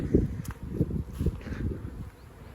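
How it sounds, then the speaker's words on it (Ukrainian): Honeybees leave their hives on a spring cleansing flight, a close low buzzing that swells and fades in short pulses with faint rustling around it. "От тут на сонечку вже гарно літають. Красота. Бджілки проснулися"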